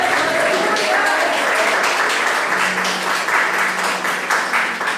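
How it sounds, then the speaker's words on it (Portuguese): Church congregation applauding for Jesus during a sermon, sustained loud clapping filling the room for the full stretch, with a faint voice underneath. "Dá um aplauso bem forte para Jesus."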